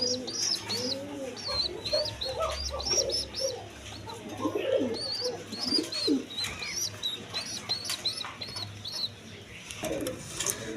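A pair of Deshi Bombay pigeons coo close by in repeated soft, rolling phrases, with a few higher chirps from other birds mixed in and a low hum underneath.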